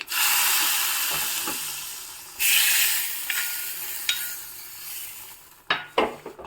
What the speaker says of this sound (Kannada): ನಾನಿಲ್ಲಿ ಓಮ್ ಕಾಳು ಇಂಗು ಮತ್ತು ಸಾಸಿವೆ ಒಗ್ಗರಣೆನ ಹಾಕಿದ್ದೀನಿ